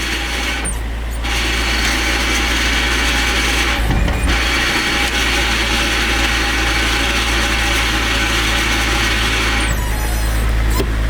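Toyota Chaser with a 1JZ engine and R154 manual gearbox conversion, a loud continuous mechanical whine and rattle as it is shifted into first gear, broken by a few brief dips.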